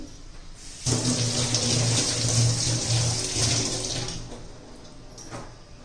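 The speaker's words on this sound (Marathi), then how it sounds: "तर धुवून घेते पहिली केळी" A kitchen tap runs as raw bananas are rinsed under it, a close, steady splashing stream that starts suddenly and fades after a few seconds, with no talking.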